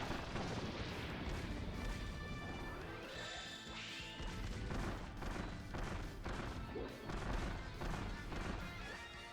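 Bomb explosions in the video game Kirby's Return to Dream Land Deluxe, a rapid series of loud crashing bursts and thuds landing one after another over busy game music.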